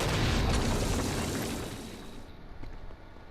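A loud, broad explosion blast in the video game Saints Row: Gat out of Hell, starting with a heavy rumbling burst that slowly fades into a quieter rumbling tail.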